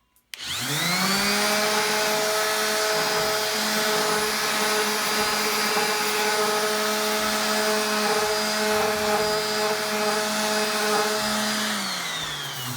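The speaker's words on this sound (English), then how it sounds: "I'm just going to use a random orbit sander for that." A power sander whirs up and runs continuously with a steady high-pitched electric hum and gritty rasp, then begins to wind down.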